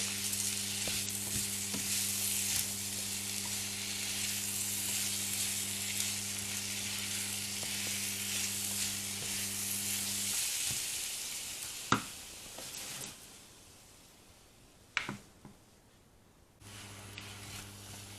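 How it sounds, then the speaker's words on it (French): Apple pieces browning in a pan for tarte tatin: a soft, steady sizzle that drops away after about ten seconds, with a couple of sharp clicks, before the low frying resumes. "Donc on va laisser les pommes revenir."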